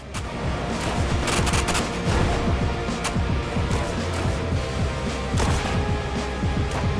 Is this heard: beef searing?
no